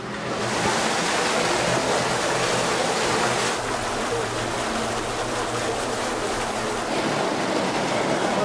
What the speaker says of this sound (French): Donc on va procéder à la mise en eau du canal.